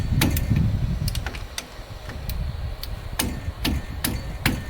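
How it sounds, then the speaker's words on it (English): Sharp metallic clicks and taps at irregular intervals as a wrench works loose a brake caliper line bolt on a 1999 Ford Expedition during a front brake job, close up over a low rumbling background. "Cracking the brake caliper line bolt."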